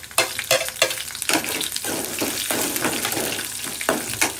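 Dried red chillies frying in hot oil with peanuts for a mango pulihora tempering, a close, steady crackling sizzle broken by repeated scraping stirs of a spoon against the pan.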